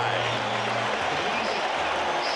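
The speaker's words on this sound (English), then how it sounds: "the crowd is on its feet at Shea at the end of 5" A baseball crowd at Shea Stadium during Game 6 of the 1986 World Series, Red Sox against Mets, roars in a dense, steady wall of noise, with a voice talking over it.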